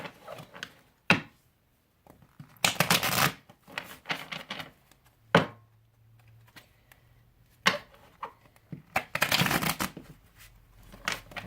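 Gilded Tarot cards shuffled by hand in irregular riffling bursts, loud and close, separated by short quiet gaps and small handling taps.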